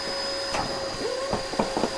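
A SkyVac Industrial 85 gutter vacuum runs steadily with a constant whining drone, broken by irregular knocks and rattles of debris, and a tone dip suggesting a blockage.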